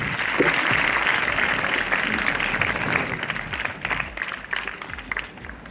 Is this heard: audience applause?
yes